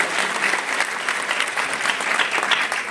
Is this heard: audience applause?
yes